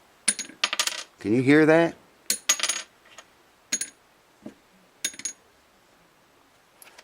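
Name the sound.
tapping Tusq bridge saddle on acoustic guitar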